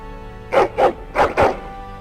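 Dog in the Dragon Age video game vocalising at a door, four short rough bursts in two pairs, fairly close and loud over a quiet background hum.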